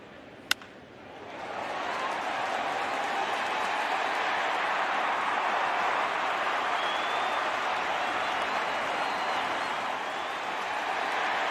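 Sustained applause from a Detroit Tigers crowd at a Major League baseball game against the Houston Astros, rising after a sharp click and then holding as a broad, dense wash of clapping for several seconds.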